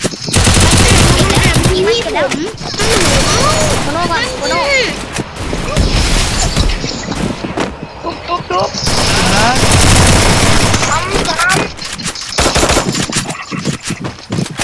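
Rapid bursts of automatic gunfire from the battle royale game Free Fire, loud and nearly continuous with brief pauses, with excited voices talking over the shooting.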